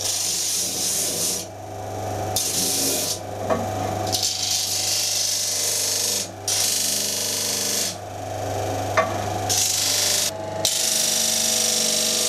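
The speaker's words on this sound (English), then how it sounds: "it's going to grind a draft onto the pattern" A wooden casting pattern is ground against a tilted table to put a taper draft on it, making a steady abrasive rasp that stops and restarts in several passes with brief pauses between.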